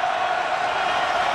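A basketball arena crowd roars during a Kansas at Texas Tech game, a steady, loud wall of cheering and shouting heard at a distance for a brief moment.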